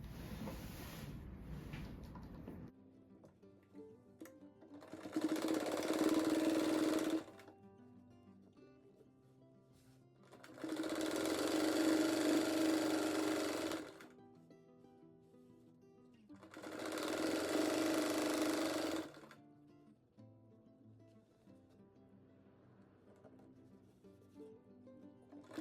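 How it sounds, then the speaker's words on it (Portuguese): Sewing machine stitching a seam on a handmade fabric rug, running in three steady bursts of a few seconds each with quiet pauses between, close and clear. "Daí aqui eu faço mais uma costura"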